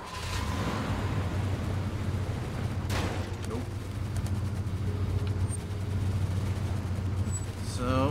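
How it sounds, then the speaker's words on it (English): Gunfire and explosions in the video game Far Cry 2 sound as a few sharp bursts and cracks, one cluster near the middle, over a constant low vehicle rumble. "there is gunfire coming from over there"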